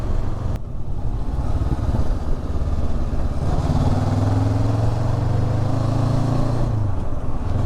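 A Honda NX500 motorcycle rides along rural country lanes, its mid-pitched engine droning steadily with constant wind rush, then rising into a sustained louder pull before easing off, close and continuous with no speech.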